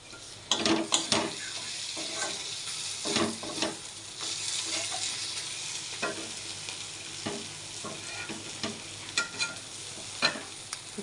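A wok of oil heating on the stove gives a soft steady sizzle, broken by repeated clinks and scrapes of utensils against the pan.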